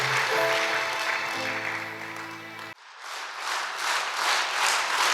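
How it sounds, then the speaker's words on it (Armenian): A church congregation breaks into applause after a brief tonal passage cuts off abruptly, the clapping building into a dense, roomy wash that swells and pulses for a few seconds. "ամբողջ ծափահարությունները մեր Տիրոջն է"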